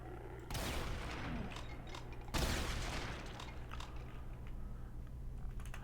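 Shotgun blasts in the video game Brutal Doom 64: two sharp, loud bursts, each trailing into a long rumbling decay of overlapping gunfire and noise.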